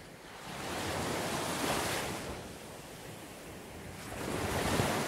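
Ocean surf washes onto a beach in a broad steady hiss, swelling and receding in slow surges with a gusty, wind-touched texture and no voices.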